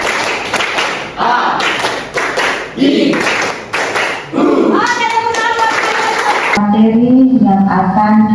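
Students in a maths classroom clap a counted pattern of one, two and three claps, loud sharp bursts in groups between a teacher's voice, with singing-like voices toward the end.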